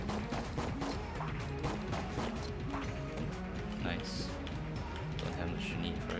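Rapid gunfire and crashing impacts from the Enter the Gungeon video game as chests are shot open, a dense, busy barrage of shots and smashes under game music, with a voice talking throughout.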